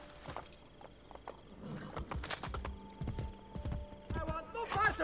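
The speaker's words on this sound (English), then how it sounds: "There is horse." A horse in Assassin's Creed Brotherhood, with hooves clip-clopping in an uneven rhythm and a whinny rising near the end, close and fairly clear amid game sounds and someone talking.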